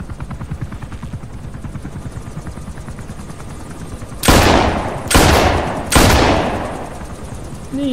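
Gunfire in the video game Metal Gear Solid V: The Phantom Pain rings out as three loud, sharp bursts about a second apart, over a steady droning hum like a helicopter rotor.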